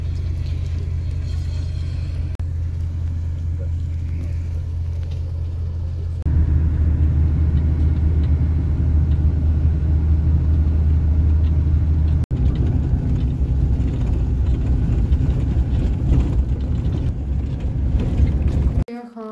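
Steady low rumble of a bus engine and road noise from inside a moving bus travelling toward Kherson, Ukraine, loud and continuous for the whole stretch, growing heavier partway through, with a brief jolt near the end.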